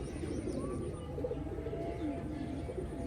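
Original Bagha breed pigeons, ring-eyed flying birds, cooing in a low continuous murmur nearby with faint chirps and no talk.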